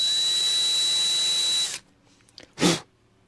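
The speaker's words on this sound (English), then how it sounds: "Some of these things drill right out and some of them are hard as rocks." A power drill whines loudly and steadily while drilling out rivets on a 450G dozer, then cuts off abruptly, followed by a few small clicks and a short burst of sound.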